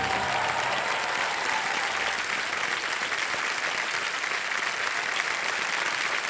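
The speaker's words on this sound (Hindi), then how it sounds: "तालियां बजती रहें इनके लिए।" Studio audience applause on the KBC quiz show set, a dense, steady wash of many hands clapping that holds evenly for several seconds with no voices over it.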